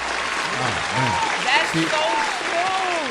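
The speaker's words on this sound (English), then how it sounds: "Oh, we need some claps." A brief burst of applause from a small group on a morning radio show plays loud under ongoing talk, claps blending with overlapping voices.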